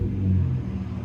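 A Hyundai Genesis 3.8-liter engine is revved, giving a loud, close, steady low rumble that holds for about a second.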